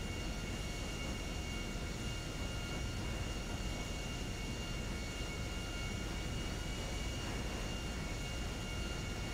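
A steady, loud airliner engine drone from the GTA 5 video game, a broadband roar with faint tonal whine held constant and unbroken, with no talk over it.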